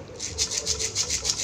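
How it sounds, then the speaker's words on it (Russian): A maraca is shaken in a steady rhythm, each shake a soft rattling swish, about eight evenly spaced pulses, close and fairly quiet. "Вот как звучит обычный марокас"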